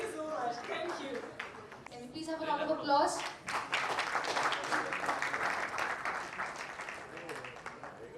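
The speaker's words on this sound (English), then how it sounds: "Can we please have a round of applause?" Applause from an audience at an event in New Delhi, a dense spread of clapping that swells after a few seconds and carries on steadily at moderate distance, with a voice speaking over the start.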